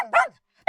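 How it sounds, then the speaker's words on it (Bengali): A hungry dog in a Bengali cartoon gives one short, close, yelping bark, then a brief silence before another bark starts. "শেষে তারা একটি ক্ষুধার্ত কুকুর দেখতে পেল।"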